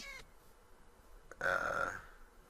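A cat meows in the Ramblecraft video game: a short, fairly loud, drawn-out mew rises out of quiet ambient background noise, with a brief fainter sound just before it.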